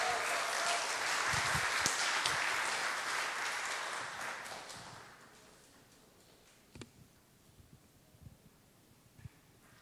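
A church congregation applauds to welcome a new member at a new-family blessing service, steady clapping for about four seconds that fades out, leaving quiet room noise with a few scattered knocks.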